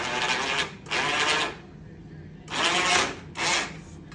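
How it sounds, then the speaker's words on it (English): Thin aluminum sheet being run through a bead roller at speed to form a corner, giving four broad rasping, rubbing passes that start and stop, loud and close with short pauses between. "roll a corner on the bead roller at speed"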